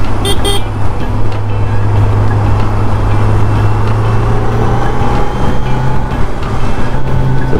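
A motorcycle, a Kawasaki Z900 or Ducati superbike, being ridden on the road: steady loud engine drone with wind rush and a short horn toot at the start.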